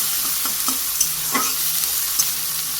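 Soybean chunks sizzle loudly in a hot pan, with a spatula scraping and stirring several times over the constant frying hiss.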